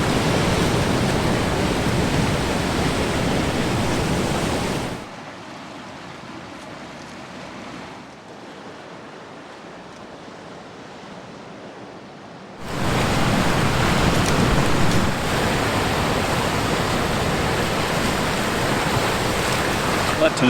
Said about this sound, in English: There is an incoming tide this morning, so I've come up a little bit higher so I can escape that incoming water